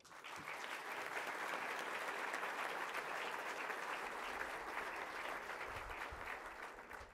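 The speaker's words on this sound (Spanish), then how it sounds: "a quienes pedimos un fuerte aplauso" An audience at a university ceremony applauds: sustained, dense clapping from many people, fairly distant and even, tapering slightly at the end.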